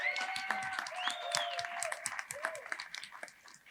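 Audience applause for the creators at a talk on generative art on Bitcoin, a steady wash of clapping from a crowd with voices and whistles mixed in, fading slightly toward the end.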